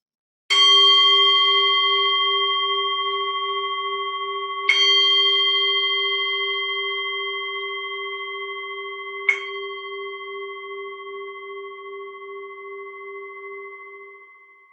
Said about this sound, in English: I will ring the bell and we will begin with our metta meditation